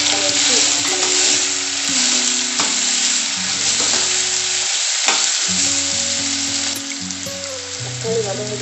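Three medium tomatoes dropped into a pan of sautéed garlic and onion, a loud close sizzle with repeated stirring scrapes and a brief dip mid-way, no talk.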